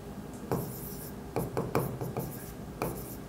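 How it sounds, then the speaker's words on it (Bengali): A pen or marker writing a question by hand, close scratchy strokes in several short bursts over a steady low background hiss, with no voice. "আমি প্রশ্নটা এখানে লিখি"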